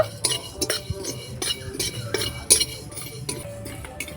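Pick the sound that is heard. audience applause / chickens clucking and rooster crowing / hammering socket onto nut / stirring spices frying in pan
stirring spices frying in pan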